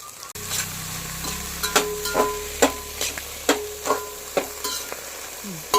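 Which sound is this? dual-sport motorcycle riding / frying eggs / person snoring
frying eggs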